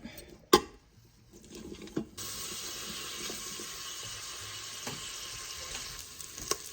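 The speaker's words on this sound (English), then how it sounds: "So we're gonna saute our onion until it's just translucent." Chopped onion sautéing in a pan, beginning with a sharp clatter and a quiet stretch before a steady sizzle sets in and continues close by with no talk.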